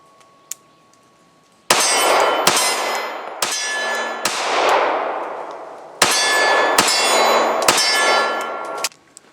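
Springfield HellCat pistol rounds striking a steel target, a fast series of sharp metallic clangs with long ringing decay, loud and close, after one faint early ping.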